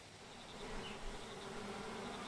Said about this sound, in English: More muggy bees.